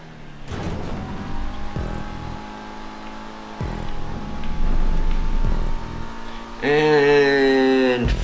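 Race car engine in GTA V, a steady drone with revving and shifting, rising to a louder, harsher roar near the end, heard alone without talk.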